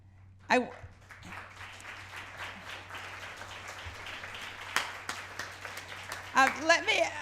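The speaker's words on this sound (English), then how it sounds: "I'll ask you to stop applauding" An audience applauds at a community gathering honoring the founding of a Jewish outreach organization, with steady massed clapping that swells and fades over several seconds and brief voices and cheers breaking through near the start and end.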